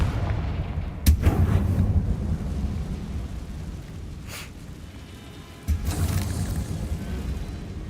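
Confringo blasting spell explosions in Hogwarts Legacy, a game set at Hogwarts in the 1890s: two loud booming blasts with rumbling decay, one near the start and another later, over a steady low background rumble.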